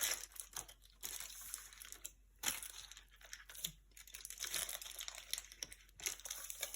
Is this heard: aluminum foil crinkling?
yes